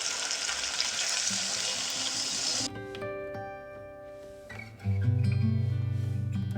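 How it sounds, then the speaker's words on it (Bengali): Hilsa curry with taro frying in a pan: a loud steady sizzle that suddenly cuts off as water is poured in, followed by a lower hiss and rising bubbling as the liquid heats. "জল দিয়ে দিলাম"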